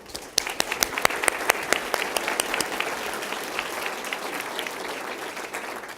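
Audience claps during a civic business presentation, opening with sharp, distinct individual claps that blend into a dense, sustained round of applause from a sizable crowd.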